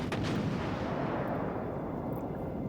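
A battleship's heavy guns fire high-explosive shells in the naval game World of Warships Legends, a loud, dense boom that rolls into a long sustained rumble with no voices.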